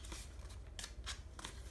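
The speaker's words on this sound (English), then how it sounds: "a lot of people take their scissors" Scissors roughening the edges of journaling paper, giving a few quick dry snipping and scraping bursts that sit close and fairly quiet over a low steady background hum.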